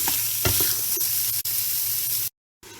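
Meat being stirred and browned in an Instant Pot on saute, a loud close sizzle broken by spoon scrapes and stirring knocks, ending with a brief cut to silence.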